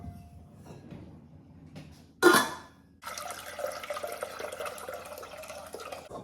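Hot water poured into a pot on a stove to make a double boiler: a short splash, then a steady close pouring rush lasting a few seconds, with no talking.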